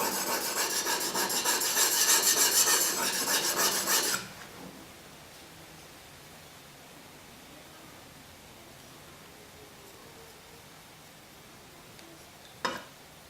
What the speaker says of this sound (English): I'll spend a few seconds here sharpening until I can feel a small burr on the